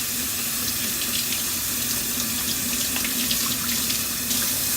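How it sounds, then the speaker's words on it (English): Steady tap water runs into a sink as cut vegetables are rinsed under the faucet, a continuous close splashing flow with no talking. "So I'm going to just rinse it off."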